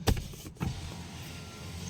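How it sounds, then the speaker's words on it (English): The rear power window of a 2024 BYD Dolphin hums as its motor runs steadily for about a second and a half, after two short clunks at the start, close and moderately quiet. "Automatic up and down at the back as well. It does not go all the way down."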